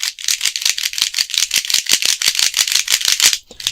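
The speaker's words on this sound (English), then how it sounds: "there's a clacky sound when you move it because of the corners hitting the edges and how they're very close together" Lubix Panshi speed cube clacking fast as it is turned, with a dense run of sharp plastic clicks from corners striking edges, close and with no other sound.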